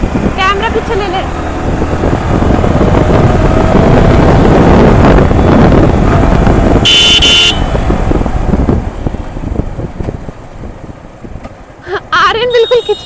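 Yamaha R15 sport motorcycle accelerating through a crowded street, engine roar mixed with heavy wind buffeting on the microphone and traffic noise, with a brief horn toot.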